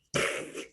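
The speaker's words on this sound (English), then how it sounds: "just burp like this" A single short, raspy burp from a girl during a burping contest, loud and close, lasting under a second with no talk over it.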